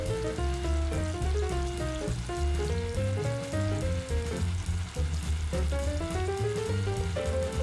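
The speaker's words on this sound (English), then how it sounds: "We're gonna fry the potatoes for 2 to 3 minutes on both sides" Potatoes fry in olive oil in a pan with a steady, close sizzle that runs the whole time beneath loud melodic background music.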